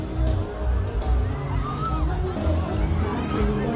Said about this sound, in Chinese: 逃命规模逐渐扩大，民众尖叫声四起